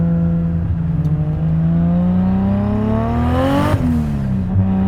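A 680 wheel-horsepower Nissan S14 Silvia with a 2JZ engine revs hard in third gear, a loud rising engine tone that climbs, then drops sharply near the end.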